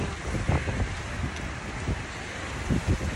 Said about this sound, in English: It's very, very windy today.